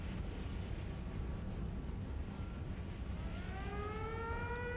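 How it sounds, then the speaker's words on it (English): A rising, wavering siren wails over an airfield in War Thunder, climbing in pitch toward the end beneath a constant roar of wind and engine noise, with no talk. "You hear that siren going off?"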